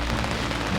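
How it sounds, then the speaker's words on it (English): Torrential downpour pelting down on a fishing boat anchored on a river for summer-run steelhead, a dense, steady hiss of heavy rain on surfaces, loud and continuous throughout this short moment. "Torrential downpour."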